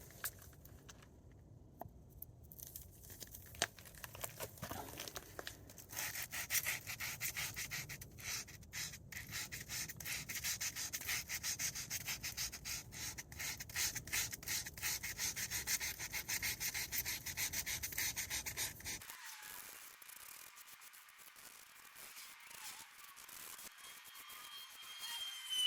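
Sandpaper of 240 grit rubs back and forth against curb rash on a 2023 Tesla Model Y wheel, a close, continuous scratchy hiss that stops abruptly near the end, with no speech.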